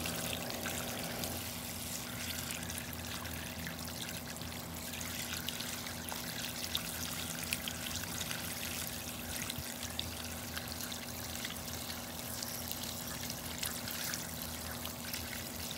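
Water streams steadily through the long channels of a diesel particulate filter during cleaning, a continuous close trickle and gurgle with a low, constant hum underneath and no voices.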